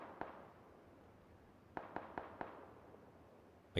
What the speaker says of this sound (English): all the gunfire is coming from there